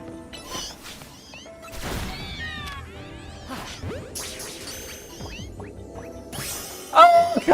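A Pokémon gives a brief meow-like cry as it is caught in a Beast Ball in the game Pokémon Legends Z-A, set amid busy game effects of whooshes, impacts and chimes, with a bright jingle near the end.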